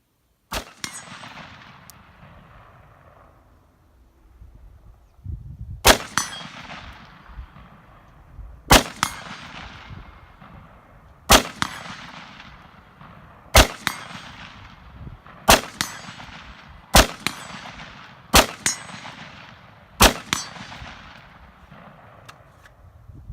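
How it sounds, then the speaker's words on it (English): Palmetto State Armory AR-15 rifle fires eight loud single shots at an unhurried, fairly even pace, each sharp crack followed by a short echoing decay, with quiet outdoor background between shots. "I'm going to throw you a little shooting action right here at the end of this video"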